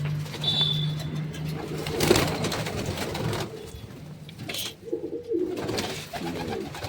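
Pigeons coo nearby in low, throaty bursts, with a brief flutter and some background rustle between calls.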